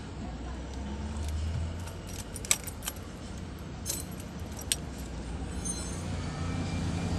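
Car ignition keys jangling near an ignition switch under repair, with a few sharp metallic clinks over a steady rumbling background noise and faint talk.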